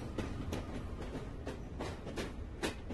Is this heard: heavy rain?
no